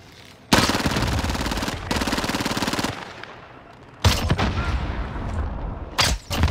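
Gunfire in the video game Call of Duty: Modern Warfare: loud, sustained automatic bursts that cut off and restart, followed by sharper heavy blasts near the end.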